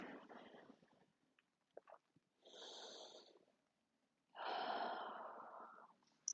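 Slow, deliberate conscious breaths during a guided breathing exercise: a few long, soft inhales and exhales, close and quiet, separated by short pauses with no talking.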